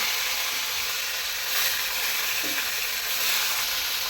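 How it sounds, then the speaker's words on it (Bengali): Steady, loud sizzling of fish frying in hot oil, a continuous crackling hiss with no voices. "মাছগুলো ভাজা হতে থাক"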